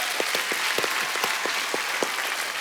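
Studio audience on a comedy talk show applauding a guest: a steady, moderately loud burst of many hands clapping with a faint rhythmic pulse, brief and without speech.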